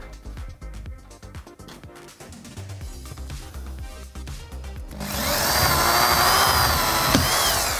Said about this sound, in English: Now to the drilling mania.